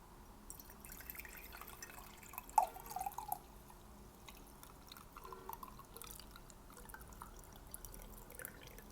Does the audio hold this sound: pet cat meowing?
no